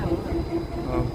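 A train arrives at New Haflong railway station in Dima Hasao district, a steady low rumble of rolling wagons with a faint sustained wheel tone, voices murmuring nearby.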